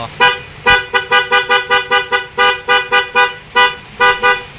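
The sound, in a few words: MDL loud horn on a motorcycle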